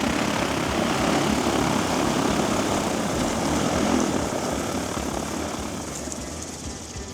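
A P150 Max agricultural drone lands, its loud propeller roar steady and close before slowly fading down, with no talk over it.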